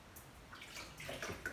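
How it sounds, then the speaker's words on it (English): Water scooped by hand splashes softly over a baby's head in a bath, several faint trickles and drips following one another, close and quiet with no talk. "I'm just going to use my hand to scoop up water on her head."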